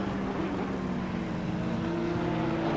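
A Porsche GT3 race car engine in a racing game at Paul Ricard, a steady loud drone that holds level throughout with no one talking.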